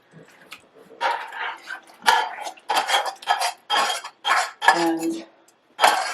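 Easter wheat pie filling mixed with cooled, seasoned grated Grana in a bowl, heard as uneven bursts of spoon clinks and scraping against the bowl, close and moderately loud, with short pauses between strokes.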